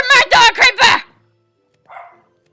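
A Minecraft dog barks in quick succession, four close, loud yips, followed by a faint short whimper after a pause.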